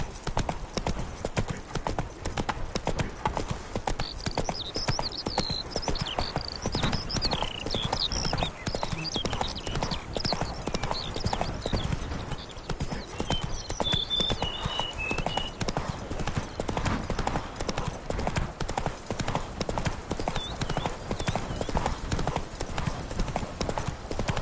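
Roach, a horse in The Witcher 3, trots with a steady, close run of hoof clip-clops that continues throughout, with a brief whinny-like call partway through.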